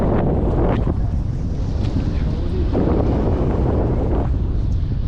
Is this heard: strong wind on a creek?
yes